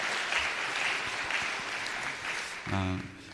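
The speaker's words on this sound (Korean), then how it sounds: "여러분 한 번 더 박수로 격려해 주셨으면 좋겠습니다." A church congregation applauds during a Korean Wednesday evening service, a brief steady patter of clapping that fades as a voice begins at the end.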